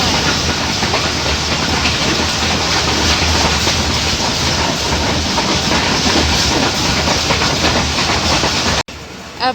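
A passenger train on the Peshawar to Karachi line rolls along the rails with a loud, continuous rumble and rattling clatter that fills the whole stretch, then cuts off abruptly near the end.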